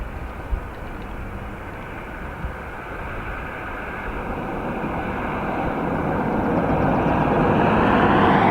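A passenger airliner inbound from Manchester approaches on arrival at Dublin Airport, its broad engine roar building steadily louder over several seconds as it draws near, with outdoor ambience beneath.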